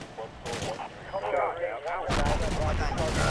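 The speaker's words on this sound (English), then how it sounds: "No, that was an RPG that missed and landed directly underneath it" An RPG round explodes after missing its target in the war game Combat Mission: Black Sea, a loud low boom that hits about two seconds in and rumbles on, with gunfire and a voice speaking faintly beforehand.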